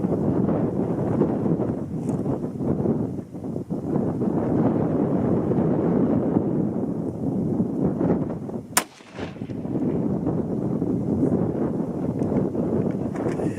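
Strong wind buffets the microphone outdoors at a rifle shooting range, a loud, continuous low roar with gusting swells, broken by one sharp crack near the middle.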